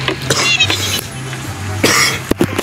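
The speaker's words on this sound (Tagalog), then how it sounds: "Inuubo po ako ngayong araw na to." Several short, loud coughs from one person up close, spread across a few seconds with brief pauses, during a farm escape game; no speech.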